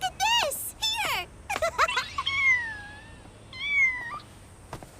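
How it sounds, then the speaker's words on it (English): An abandoned cat in an anime scene meows repeatedly, several high, drawn-out cries in close succession, near and fairly clear. "An abandoned cat."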